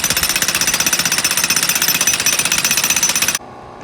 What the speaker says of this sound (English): The jackhammer is barely doing anything.